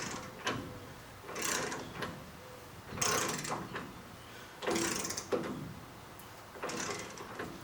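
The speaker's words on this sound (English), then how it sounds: "Come back with the torque wrench." Torque wrench working on a car's rear end, torqued to 40 to 70 foot-pounds, giving several short bursts of mechanical clicking separated by pauses, close and fairly quiet with no talking.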